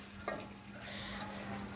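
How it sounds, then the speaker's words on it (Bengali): Chicken meat fries in a pan until browned, a steady close sizzle with a brief stir or scrape near the start and a faint hum running underneath. "তো এখানে আমি মাংসগুলো একদম কোয়া কোয়া করে ভেজে নিচ্ছি।"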